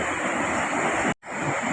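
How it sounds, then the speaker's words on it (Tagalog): Sea waves on the shore make a steady, loud wash of surf with a windy roar. It is broken once by a brief dropout of silence, and there is no talking. "ito po yung dagat namin yun. Yan, yan ang alon."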